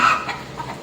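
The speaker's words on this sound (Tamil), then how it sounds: "வீட்டு கோழி வந்துட்டு முட்டை போட்டுருச்சு." A domestic hen clucks after laying an egg: a short burst of a few close, fairly loud clucks with no talk over them.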